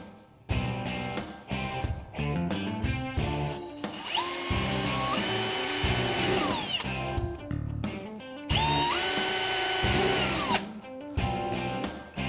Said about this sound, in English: You're going to take your drill and drill these markings.